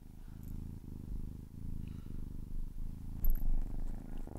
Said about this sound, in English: Right now he's purring, listen.